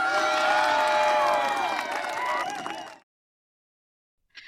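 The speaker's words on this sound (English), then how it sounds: "Please give them a big round of applause." Applause and cheering from an awards audience at an ocean youth forum: about three seconds of clapping mixed with voices and whoops, then an abrupt cut to silence.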